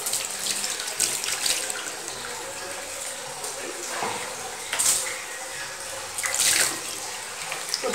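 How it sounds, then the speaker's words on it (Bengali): A brush is washed under a running sink tap while cleaning a washbasin, giving a steady hiss of water with brief louder splashes as it is scrubbed. "এবার এই ব্রাশটা ধুয়ে নিই"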